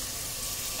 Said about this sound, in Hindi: अब हम इसमें डाल रहे हैं पानी